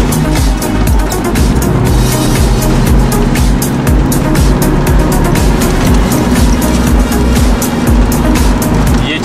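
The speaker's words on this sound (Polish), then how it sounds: "Mama jedzie samochodem." A car in motion along a road on the way to Lake Chańcza, heard from inside as a loud, steady engine and road drone with rhythmic thumps and rattles throughout, and no talk.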